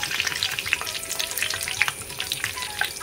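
Jackfruit bondas, a Mangalore monsoon fritter, crackle and sizzle steadily in hot oil, with dense bubbling and scattered sharp pops throughout, close and fairly loud.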